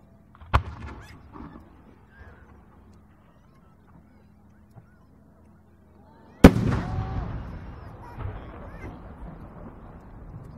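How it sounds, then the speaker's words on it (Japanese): A 10-go firework shell at a national fireworks competition in Yatsushiro bursts outdoors with a sharp distant crack, then a second loud boom followed by lingering rumble, crowd murmur and scattered voices. "三色が移り変わる花火です。"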